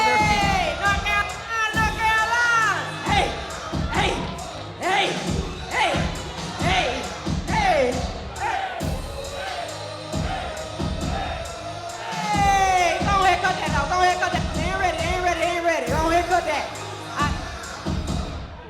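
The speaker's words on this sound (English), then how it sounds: "she's back to get the crowd on their feet" A wrestling show crowd in North Carolina cheers and shouts loudly in waves, with bursts of yelling, rhythmic chanting and sharp hits breaking through a constant close roar of voices.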